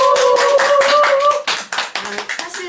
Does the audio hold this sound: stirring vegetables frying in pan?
no